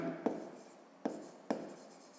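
A pen writing on paper during a fifth-grade maths exercise, close and quiet, with three sharp strokes followed by soft scratching runs and short pauses between them.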